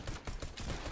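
Pistol gunshots in a video game, a quick burst of several sharp shots close together, fairly faint.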